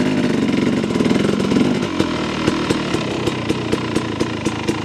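A motorcycle fitted with a Rekluse auto clutch, heard while riding: a loud, close engine drone that steadies into a rhythmic putter with regular sharp ticks, no talking over it.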